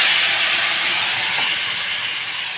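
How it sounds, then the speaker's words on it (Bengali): Water poured into a hot pan of turmeric-fried vegetables sets off a loud, steady steam hiss that holds for a couple of seconds and fades slightly near the end. "এবার জল দিয়ে দিলাম।"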